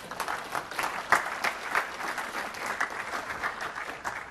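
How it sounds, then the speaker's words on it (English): An audience claps through a technical developer conference session on phone game development, a steady dense patter of many hands that swells briefly and then holds at an even level, with no voices over it. "you can clap if you want"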